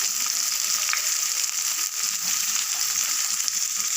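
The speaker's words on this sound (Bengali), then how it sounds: "কালো জিরে ফোড়ন দিয়েছি আর পেঁয়াজ কুচা দিলাম" Chopped onion and black cumin seeds fry in oil with a dense, steady, bright sizzle, close and constant for the whole stretch, no talking.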